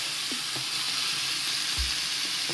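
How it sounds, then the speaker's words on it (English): Tofu and vegetables fry in a pan with a steady, bright sizzle throughout, broken by a few soft clinks and stirring knocks, close and with no talking. "I'm going to put some tofu in and then the vegetables and just let that cook"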